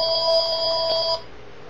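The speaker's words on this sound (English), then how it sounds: "now the phone is ringing" A telephone rings in a home, giving one clear electronic ring tone that lasts about a second before stopping into quiet room noise.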